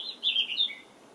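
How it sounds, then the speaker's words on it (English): A bird sings outdoors in a bright, high chirping phrase lasting about a second, clear and fairly close, with no voices over it. "Can you hear that bird singing?"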